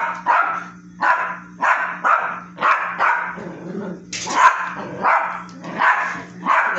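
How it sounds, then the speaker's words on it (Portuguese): A dog barks repeatedly at a hummingbird flying indoors, loud and close, with sharp barks roughly every second and a brief growl in between. "Porque ele late, gente."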